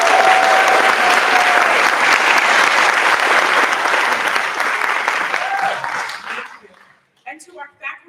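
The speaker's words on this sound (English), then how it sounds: "can we give cohort 14 a round of applause?" An audience at a nursing pinning ceremony gives a sustained round of applause, loud and dense, then tapers off into scattered claps and a few voices.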